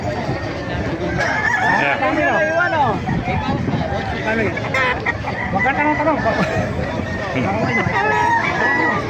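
Several gamefowl roosters crow repeatedly, near and far, over a continuous clucking of many chickens and a busy murmur of people talking, in Bukawi.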